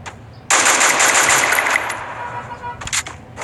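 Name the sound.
gunfire in a video game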